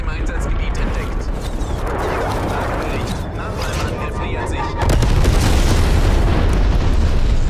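A grenade blast in the shooter game Call of Duty Black Ops Cold War: dense, booming explosion noise that swells and grows louder toward the end, with a voice speaking over the rumbling mix.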